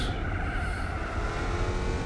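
A car engine in the video game Gran Turismo 4 drones steadily at low revs with a throaty intake rumble and faint whine, close and continuous.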